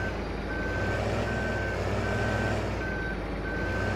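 A truck in Farming Simulator 15 backs up, its reversing alarm beeping in a steady evenly spaced series over a loud continuous engine drone.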